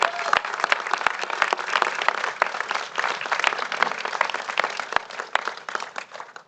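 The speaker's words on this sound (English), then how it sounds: "let's give him a big round of applause" A crowd at a San Francisco press conference breaks into sustained applause, dense, even clapping that carries on without a break and fades slightly at the end.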